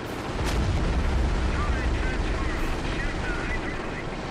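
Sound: V rocket strike exploding in Company of Heroes video game

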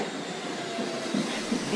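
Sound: subway train passing through station

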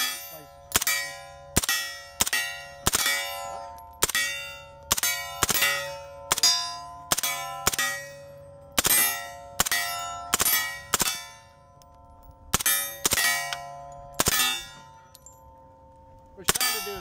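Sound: MP5 fired single shots on full auto, hitting steel

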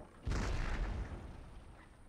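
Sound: howitzers firing in Empire: Total War video game

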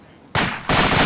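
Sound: gunfire

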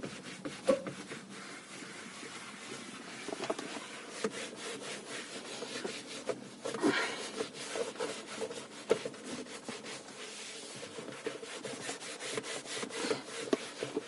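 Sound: wiping polish off car steering wheel with cloth

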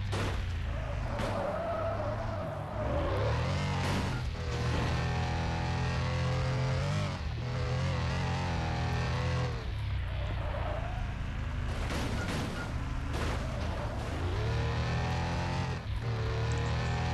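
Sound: car driving and skidding in Demolition Derby 3 video game

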